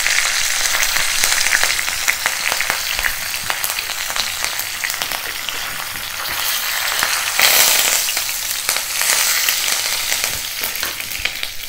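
Red and green chillies, curry leaves and asafoetida crackle and sizzle in hot oil for a tempering, a loud, steady frying hiss with scattered pops and light stirring throughout.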